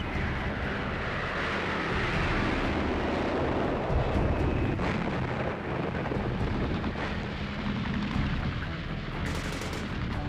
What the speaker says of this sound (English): napalm bombs